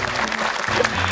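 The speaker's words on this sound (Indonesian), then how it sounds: "Tepuk tangan deh untuk kita semuanya." Studio audience clapping on an Indonesian children's Quran memorization competition show, a brief burst of scattered hands under low background tones, fairly close.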